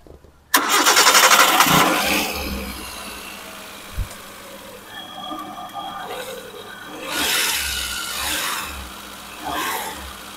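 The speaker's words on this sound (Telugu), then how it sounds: "ఇంజిన్ స్టార్ట్ చేసి" A used 2012 Hyundai Santro Xing cranks and catches, then settles into a steady idle close by, with a couple of brief swells in engine noise.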